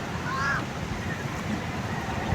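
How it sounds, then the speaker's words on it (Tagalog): Steady wind rushes and buffets past the microphone in a continuous broadband roar, with a brief voice near the start. "Narinig mo yung hangin sa likuran ko na dumadampis mga balat ko."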